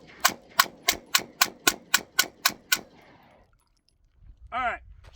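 A Ruger Max-9 pistol fires ten rapid, evenly spaced shots at a steel plate, each a loud sharp crack with a metallic ring, followed by a brief quiet tail and a short trailing sound.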